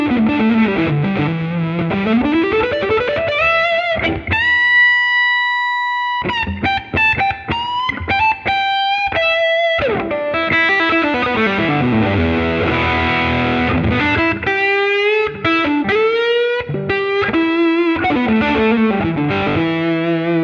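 A heavily distorted electric guitar, a PRS 594 or Eastman SB59, plays a thick, saturated lead with pitch bends, sliding runs and long sustained notes, loud and upfront.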